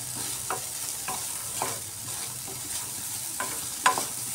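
Soybean chunks fry in a pan under a steady sizzle, while a spatula scrapes and stirs them in sharp strokes about every half second.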